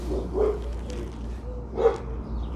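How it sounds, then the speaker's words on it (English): A pet dog gives two short barks indoors, one near the start and another near the end, each standing out over a low room hum and faint background voices. "my dog is here"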